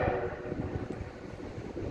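DT668 steam locomotive hauling a train past, with a steady rumbling roll of wheels and carriages, loud and close throughout, a brief whistle-like tone near the start and no voices.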